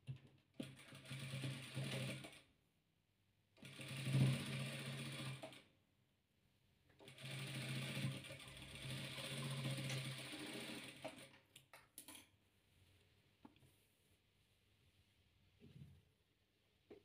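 A sewing machine stitches patchwork quilt pieces together in three-colour chain pattern, running in several bursts of steady whirring separated by short pauses, close and moderately loud, with quieter handling noises toward the end.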